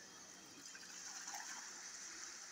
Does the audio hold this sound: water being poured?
yes